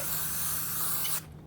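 A single loud, steady hiss from a spray can coating a Warhammer 40k terrain hill, lasting just over a second and stopping abruptly.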